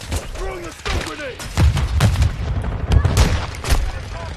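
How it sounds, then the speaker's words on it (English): A stun grenade detonates in a first-person shooter match amid dense, rapid game gunfire and booms, loud and close, with a player's voice talking over the noise. "Throwing a stun grenade!"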